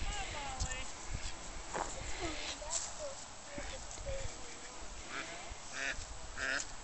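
Ducks quack intermittently at a moderate distance while people talk over steady outdoor background noise.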